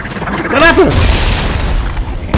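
A grenade detonating in the sci-fi horror shooter Dead Space 3, a single loud booming burst with a brief rising whine just before it, followed by a rumbling decay, with a voice speaking over it.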